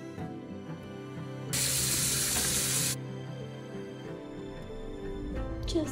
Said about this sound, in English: Now I'm just gonna wash and detail my shrimp.